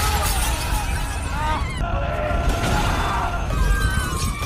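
Film sound effect of everything nearby shattering and being destroyed by a superpowered scream, a dense burst of breaking glass and debris crashing continuously, loud and close, with a brief lull midway.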